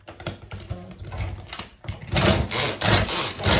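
An electric grinder chops cauliflower into rice, giving a close, loud rattling whir that pulses in short bursts and grows more intense toward the end.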